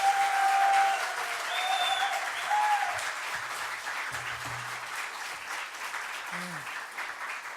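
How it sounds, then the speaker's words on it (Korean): A church congregation claps warmly to welcome a Baptist pastor to the pulpit, sustained dense applause filling the hall from start to end, fading slightly, with a few low murmurs beneath. "큰 박수로 맞아주시기 바랍니다."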